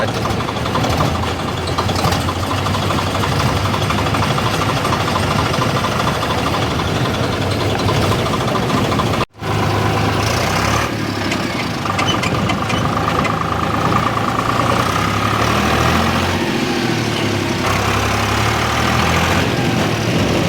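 Tractors pulling paddy trailers in a row along a village road: a continuous, steady low engine drone with a knocking chug throughout, broken only by a brief cut partway, and no clear talk.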